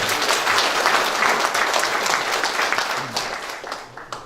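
An audience of students and officials at a Chungcheongnam-do governor's town meeting applauds, a loud, even burst of many hands clapping that stays steady for a few seconds before fading out.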